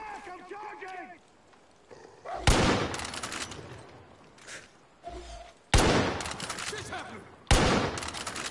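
Video game gunfire comes in sudden loud bursts of rapid shots, separated by quieter stretches where someone talks over the game.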